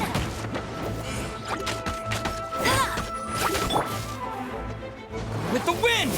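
Several sharp smashing impacts and swooshes of a Wind Blade attack sound in the mobile version of Genshin Impact during a fight with La Signora in Mondstadt, crashing hits bursting over a busy, layered game soundscape.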